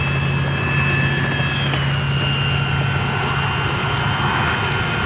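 An RC EDF model jet, the Outrunner fitted with an RC Geek afterburner, flies past with a steady, loud turbine whine and rushing roar that shifts pitch midway as it passes.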